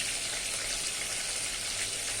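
Oil sizzles and crackles steadily in a pan, a dense continuous frying hiss heard up close with no voices.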